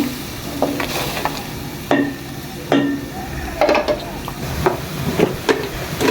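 Chicken curry being stirred in a pot with a spoon, producing irregular scraping strokes over a steady bubbling sizzle, close and moderately loud with no talking.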